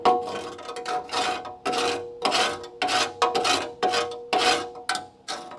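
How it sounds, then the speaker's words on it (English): Rasping, scraping bursts as metal debris is cleaned out of a car's frame rail during repair, about ten separate rough strokes in quick irregular succession, close and fairly loud with no talk. "Cleaning all the metal crap out of here."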